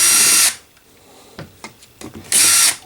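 A power driver removes T20 screws from the housing of a DeWalt DCS578 FlexVolt 7 1/4-inch circular saw, with two loud high-pitched whirring bursts at the start and end and quiet clicks and handling sounds in between.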